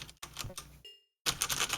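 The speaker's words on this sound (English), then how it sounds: "Hit buttons on the keyboard." Computer keyboard keys clack in quick irregular bursts, a brief pause, then a denser flurry of close, crisp presses, with no voices.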